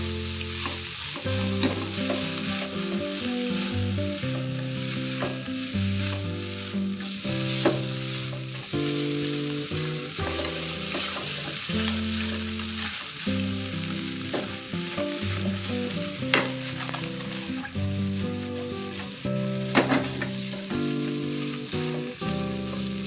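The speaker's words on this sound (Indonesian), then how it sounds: "Aduk cepat hingga bumbu benar-benar tercampur rata dan juga bumbunya meresap." Green chili noodles stir-fried over high heat in a pan, with continuous loud sizzling and the scrape of steady, quick stirring throughout. Music plays underneath and no one speaks.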